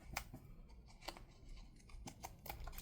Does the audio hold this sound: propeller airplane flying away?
no